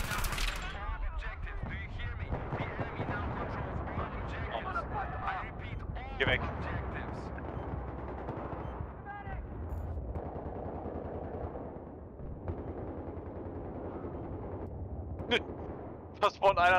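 Dense, continuous gunfire from a Battlefield 3 multiplayer match, with rapid machine-gun bursts and heavier blasts running throughout at steady loudness, while someone talks over the action.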